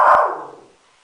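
A single sharp dog bark aimed at a window, close and loud, trailing off quickly into a brief fading echo with no talk.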